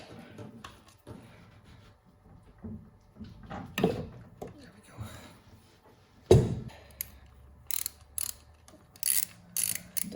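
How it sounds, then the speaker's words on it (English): A ratchet works loose an overtightened oil drain plug on a 1989 Kawasaki ZX7 motorcycle, giving scattered clicks, a sharp knock midway and loud bursts near the end, close and with no talk. "I'll still never understand why people insist on cranking down oil drain plugs so tightly."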